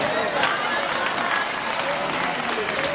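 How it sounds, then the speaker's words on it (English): A church congregation claps together in a short, dense burst of applause, close and fairly loud, with crowd murmur mixed in and no clear pauses. "I'm glad y'all clapping on that part"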